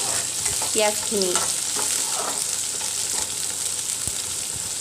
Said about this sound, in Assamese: কেৰাহী যেহেতুকে গৰম হৈ আহিছে এতিয়া মই দিম ইয়াতে গোটা জিৰা অলপ